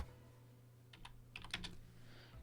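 Code being typed on a computer keyboard in a programming lesson: a short burst of quiet, close key clicks in the second half over a low steady hum, with no talking.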